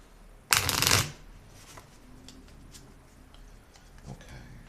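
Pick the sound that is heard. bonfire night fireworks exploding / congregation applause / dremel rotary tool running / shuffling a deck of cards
shuffling a deck of cards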